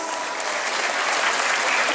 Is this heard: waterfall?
no